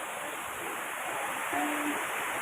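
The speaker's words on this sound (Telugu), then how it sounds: "ఇగో డ్యామ్ కాడ చూడండి ఫ్రెండ్స్ నీళ్ళు బాగా ఉన్నాయి" Water rushes steadily at a full dam, a constant broad roar heard from nearby, with a faint brief tone briefly rising above it and no speech.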